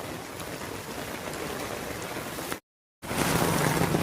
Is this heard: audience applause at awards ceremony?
no